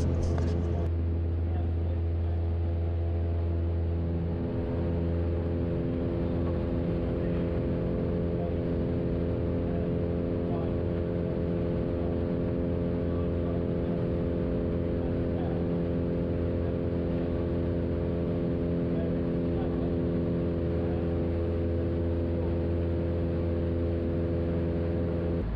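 A Socata Rallye light aircraft on a full-flap landing approach, its piston engine and propeller making a constant loud droning hum with steady harmonic tones, heard from inside the cabin the whole way through.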